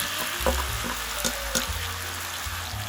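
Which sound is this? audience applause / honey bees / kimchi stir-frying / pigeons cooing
kimchi stir-frying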